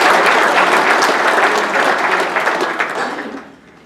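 An audience applauds at a hall of fame ceremony, a dense steady clatter of many hands clapping nearby that fades out toward the end.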